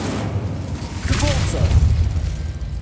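An Incendio fire spell cast in Hogwarts Legacy: a roaring burst with a whooshing flare swells over steady low game rumble, and a brief voice-like cry rises midway through.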